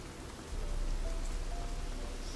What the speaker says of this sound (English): This light drizzle is falling on us.